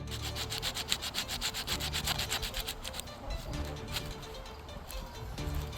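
Wood being sanded by hand with 100 grit sandpaper, rapid rhythmic back-and-forth rubbing strokes, close and fairly quiet, with no talking.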